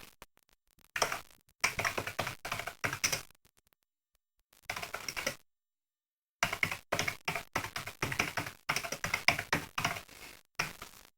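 Typing text on a computer keyboard, bursts of quick close key taps separated by short silent pauses, crisp and isolated with no talk.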